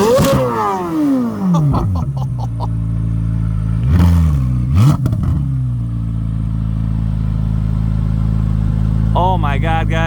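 A Chevrolet Corvette C8 Z06 with a Z07 carbon fiber package and stock exhaust in track mode revs hard. Two or three loud, close engine sweeps climb and fall, followed by a steady deep idle, with people talking over it.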